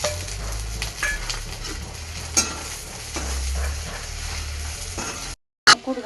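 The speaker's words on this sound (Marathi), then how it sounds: "कूट घालून घेणार आहे भेंडीमध्ये। 2 मिनिटं छान फ्राय करून घेऊया।" Okra frying in a pan with cumin, masala and ground peanut powder, a steady close sizzle with scraping stir strokes, a brief gap of silence near the end before the frying noise returns.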